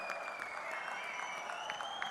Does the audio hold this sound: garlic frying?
no